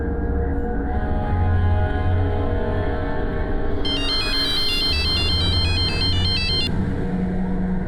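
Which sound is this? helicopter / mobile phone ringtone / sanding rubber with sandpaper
mobile phone ringtone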